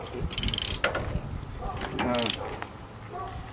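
14 mm bolts on an electric trailer jack are loosened by hand with a ratchet, making bursts of rapid pawl clicking close by, with a brief pause between them.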